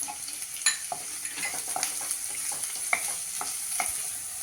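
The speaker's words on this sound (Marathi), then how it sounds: "कांदाही घालूया परतायला एक मध्यम आकाराचा कांदा बारीक चिरून घेतलेला आहे" A medium-sized onion, finely chopped, sautéed in a pan: a continuous light sizzle broken by frequent scraping and tapping of a spatula, close and fairly quiet, no voices.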